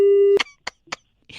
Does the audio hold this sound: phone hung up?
yes